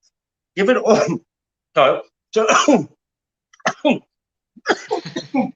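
A person sneezes and coughs in bursts during a home cooking session for bak kwa chicken slices, several sharp close explosive expulsions separated by pauses, with a brief spoken word among them.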